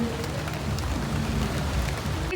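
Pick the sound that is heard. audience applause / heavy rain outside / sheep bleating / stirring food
heavy rain outside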